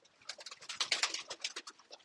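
Pigeons in a loft, heard close up as a busy flurry of light shuffling, scratching and wing-flutter with soft pattering, continuous and fairly loud with no talking.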